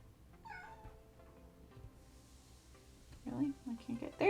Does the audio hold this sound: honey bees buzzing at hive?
no